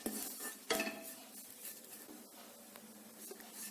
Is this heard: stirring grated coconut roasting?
yes